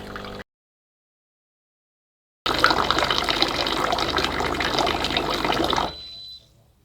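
A Delonghi Magnifica Start coffee machine runs its descaling rinse cycle, pumping water in a steady loud rushing flow after a brief opening sputter and a pause, then tapering off at the end, with no talking.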